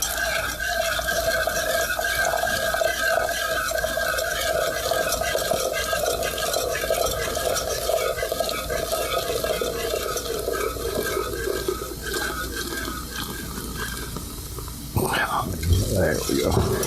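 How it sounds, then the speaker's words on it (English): Root beer being whisked into brown sugar in a pan, a steady close stir with a light sizzling, bubbling texture running throughout, ending with a brief clatter near the end. "let's slowly start to whisk in this root beer into the brown sugar"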